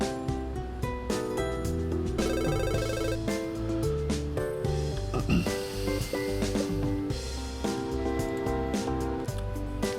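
A phone ringing in the Mad Games Tycoon management video game, a repeated electronic ring pattern over steady game music, loud and continuous through the stretch.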